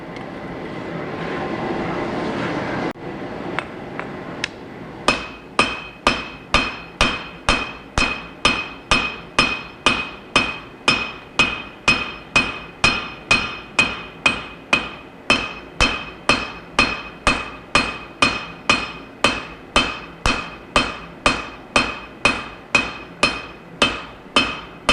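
Steady, evenly spaced hammer blows ring out one after another while a wootz steel integral chef's knife is forged, preceded by a few seconds of rougher workshop noise before the regular striking begins.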